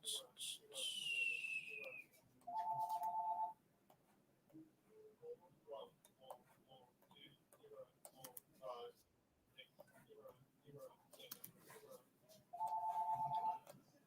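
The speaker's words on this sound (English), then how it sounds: "Ignore that phone" A telephone rings twice in an office-like room, two separate electronic ring bursts a good ten seconds apart, each lasting about a second, while people talk faintly around it.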